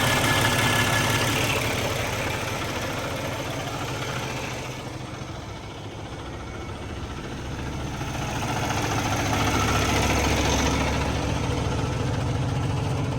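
A Kenworth W900 truck engine runs at a steady idle after starting, a loud continuous diesel rumble that dips slightly midway and then swells again, with no talking over it.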